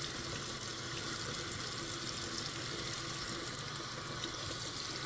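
Steady running water from a tap into a sink while a slimy makeup sponge is washed by hand, a constant close hiss and splash with no talking.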